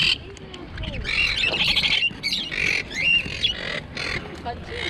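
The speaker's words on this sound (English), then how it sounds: "Budgies. It's a breeding pair." A breeding pair of budgies at a local market stall give repeated sharp squawks and chirps, close and lively, over voices talking in the background.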